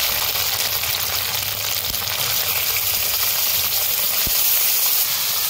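Chicken meat drops into hot oil already holding ground dried red chilli paste and sizzles in a steady, loud hiss that holds constant without pause, close up, with a couple of faint knocks and no voices.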